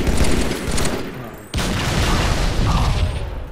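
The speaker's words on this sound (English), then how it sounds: "I think those nades cleared them out." Loud, continuous gunfire and booming grenade blasts in a Halo 3 match, with a sharp explosive hit partway through and steady shooting on both sides of it.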